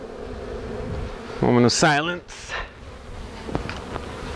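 Honey bee swarm buzzing during a large swarm removal in Weslaco, Texas, a steady hum running through the clip beneath a brief loud burst of speech.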